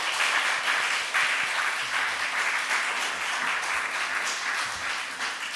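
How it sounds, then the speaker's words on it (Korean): A church congregation at a revival service applauds its worship team with dense, sustained clapping that fills the room steadily for several seconds, no voices standing out. "이 시간 우리 격려의 박수 한번 쳐주시고요"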